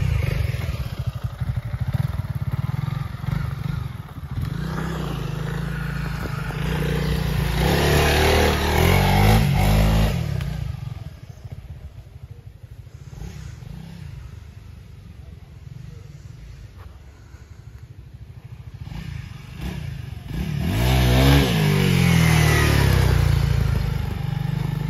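A Honda CRF300L dirt bike engine revs and rumbles along a trail, rising and falling in loudness as it accelerates, with clattering and wind noise and occasional talk.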